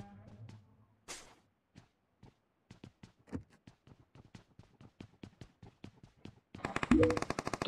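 Gunfire in the PUBG Mobile battle royale game: scattered single shots spread across the stretch, then a dense burst of rapid automatic fire near the end, fairly close with no talking.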